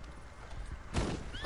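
A horse in the PS4 game Red Dead Redemption 2 gives a brief, quiet whinny with faint hoof clops around it.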